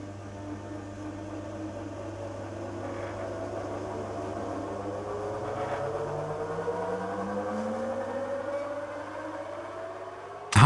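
An electric motor on a thyristor soft starter runs up smoothly to full speed, its steady hum gliding upward in pitch without steps over several seconds, with a brief louder burst at the very end.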